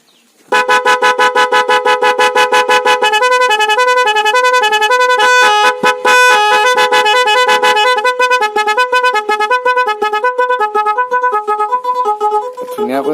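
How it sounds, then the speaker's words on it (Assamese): A Mocc 18-sound musical horn fitted to a Toyota Innova honks loudly and close up, cycling through rapid multi-tone melodic patterns and staccato blasts without pause. "কাম কৰি আছে হৰ্ণ দুটাই"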